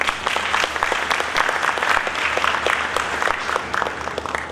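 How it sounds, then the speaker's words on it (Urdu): Audience applause at a public event marking the Lyari Expressway project in Karachi: sustained, dense clapping from a crowd, steady and fairly loud for several seconds, with no speech over it. "یہ آپ کی تالیوں کے مستحق۔"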